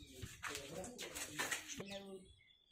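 A pigeon coos softly inside a small rock cave where it nests, a few low rounded calls in a short series, heard close but faint, with a person talking quietly over it.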